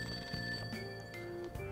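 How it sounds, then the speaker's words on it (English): In Persona 5 Royal, a telephone rings from downstairs in the café, a faint electronic trill repeating in short bursts over soft background music, with no voices. "That ringing sound isn't coming from my cell phone. I hear it coming from downstairs."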